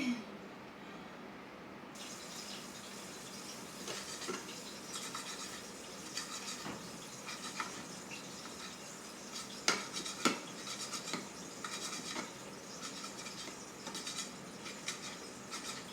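Jute greens get stirred in a pan with the back of a spatula, giving soft, irregular scraping and clinking of metal on cookware. The sounds are faint and close, with occasional sharper taps and no talking.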